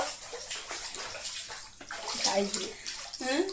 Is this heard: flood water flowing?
yes